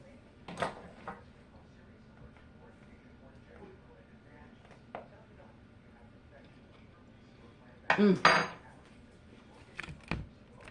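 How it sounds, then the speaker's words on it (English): A spoon clinks and scrapes against a bowl while chicken salad is stirred, a few sharp clatters standing out from quiet kitchen background, with someone talking at times. "Get this stirred up really well."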